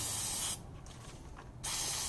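Carb cleaner sprays from an aerosol can into the idle air control valve of a 1991 BMW E30 318i, one steady close hiss lasting about a second that then cuts off, with a constant background hum on either side.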